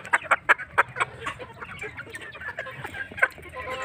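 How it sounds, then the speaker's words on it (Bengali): Chickens in a laying-hen poultry shed give a quick run of loud, close clucks, then keep up softer, overlapping clucking and calls with a few sharper squawks, and nobody speaks. "তো পুরোটাই মুরগি আছে,"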